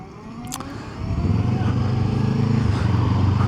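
A Kawasaki Ninja 7 HEV hybrid motorcycle pulls away smoothly in eco mode, its engine tone rising steadily and loud up close after a brief quieter start, with no talk over it.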